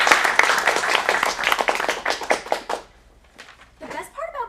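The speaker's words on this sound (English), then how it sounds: "Let's give her a round of applause." A loud burst of applause and cheering, hands clapping for nearly three seconds at a teen acting studio showcase, fading out, followed by a voice speaking.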